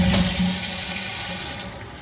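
A toilet at the Stanley Hotel flushes, a steady rushing gurgle of water heard up close that stays even and continuous throughout.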